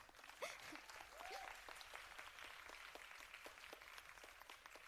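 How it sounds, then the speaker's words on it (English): An audience claps at a Bharatanatyam arangetram dance recital, a faint, even patter of applause from a crowd heard from a distance, with a few stray tones over it. "Claps."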